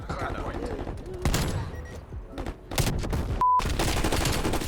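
Hand cannon gunfire in Black Ops Cold War, a loud burst of rapid shots packed densely together, with brief pauses between volleys and a short gap near the end.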